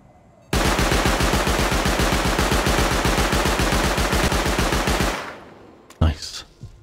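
Rapid automatic gunfire from an auto turret in the survival game Rust, a loud, dense, evenly spaced burst running about four and a half seconds before cutting off, followed by a few scattered thuds.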